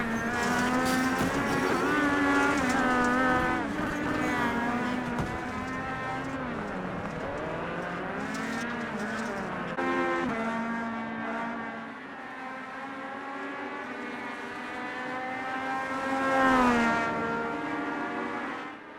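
An FIA Cross Car lapping a dirt race track, its engine droning loud and unbroken, the pitch climbing and dropping with each throttle change and gear shift, rising to a strong surge near the end.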